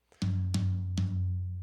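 Three punchy digital drum hits boosted with EQ, with deep booming low end and sharp attacks, evenly spaced and ringing out, no voices.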